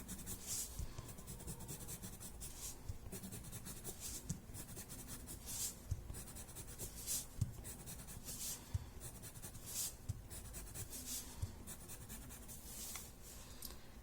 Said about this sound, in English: Pushing my pencil hard.